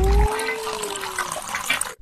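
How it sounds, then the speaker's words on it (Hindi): Water poured into the hollowed-out shell of a broken TV, a steady splashing, filling flow heard up close, with a brief low thump at the start. "ऐसे टीवी को तोड़ के उसके अंदर पानी भर के कौन पानी पीता है?"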